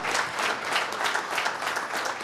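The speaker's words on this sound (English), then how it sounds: "Please, let's have the applause going for all the conclave partner supporters here." Dense, steady applause from a conference audience at a two-day tax conclave in 2021. A full crowd claps continuously and evenly for the whole stretch, close and fairly loud, with no talk over it.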